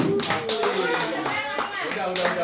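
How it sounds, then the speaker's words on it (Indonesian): Class or teacher-training session in Indonesia where participants applaud a colleague: a dense burst of close hand claps from a small group, steady and busy throughout, with voices mixed in. "Tepuk tangan dulu buat Pak Sakirin."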